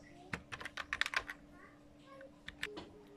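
Someone types a password on a computer keyboard: a quick close burst of crisp key clicks, a pause, then a few more taps, with a faint voice in the background.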